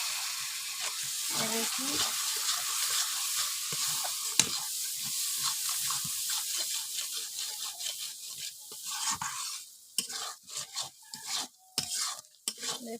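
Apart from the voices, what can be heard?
water added to frying spices in a pan, sizzling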